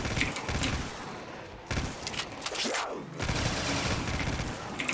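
Full-auto gunfire rattles continuously in Call of Duty Black Ops 3 zombies, with rapid loud bursts broken by short gaps over dense game noise.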